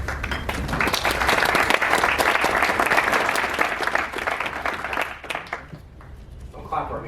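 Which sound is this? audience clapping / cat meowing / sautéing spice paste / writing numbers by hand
audience clapping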